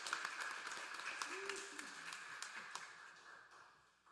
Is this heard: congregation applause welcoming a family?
yes